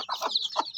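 Native chicken crossed with Shamo clucks in a few short, close bursts, alone with no talk.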